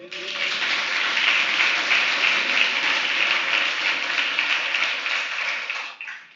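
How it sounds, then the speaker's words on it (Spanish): A church congregation at a Sunday service bursts into sustained applause, a dense, steady wash of clapping that continues for about six seconds before cutting off abruptly. "¿Alguien puede dar un aplauso al Señor?"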